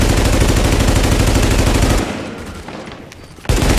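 Sustained heavy gunfire from a shotgun in The Division video game, loud and dense for two seconds, then a quieter stretch of scattered shots before another blast cuts in.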